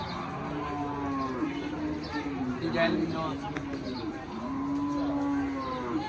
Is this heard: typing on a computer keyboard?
no